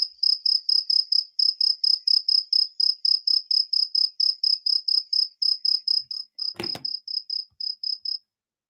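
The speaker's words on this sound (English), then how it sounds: "Y'all hear them crickets?" Crickets chirping in a fast, steady series of sharp, loud pulses for about eight seconds, close and clear against near silence, with one brief click partway through.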